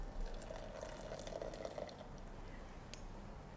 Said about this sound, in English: to this, I'm going to add 2 ounces or 60 ml of my hot water